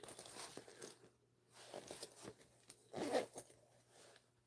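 Zipper on a fabric pocket being opened, quiet close-up scratchy zipping bursts with short pauses, alongside soft rustling of the material.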